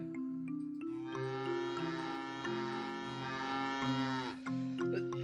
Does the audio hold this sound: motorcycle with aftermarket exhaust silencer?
no